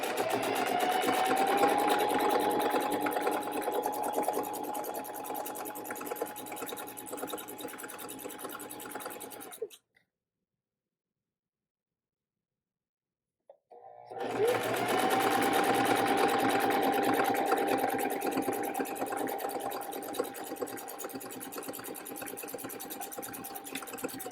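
A sewing machine stitches a fabric drawstring bag with a steady, close, rapid whirring hum. It runs for about ten seconds, goes silent briefly, then resumes at the same pace.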